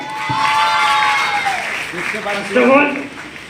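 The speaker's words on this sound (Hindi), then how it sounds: "जोरदार ताली होना चाहिए।" At a gathering honouring team leaders and car achievers, an audience claps beneath a prominent speaking voice, the applause forming a brief, busy wash behind the talk.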